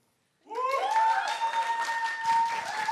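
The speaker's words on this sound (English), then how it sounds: "Let's give a big round of applause to Luana." After silence, applause breaks out at a business talk on moving from B2C to B2B: a sustained tonal whistle rides over a steady bed of audience clapping that holds at moderate loudness.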